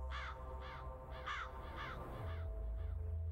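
Crows caw in a video game, several harsh calls repeating in a steady rhythm over a low, constant rumble.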